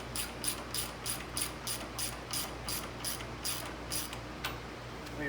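Ratchet wrench tightening a bolt on a bolt-on independent front suspension, a quiet run of evenly spaced clicking strokes close by, about a dozen in steady rhythm, with no talking.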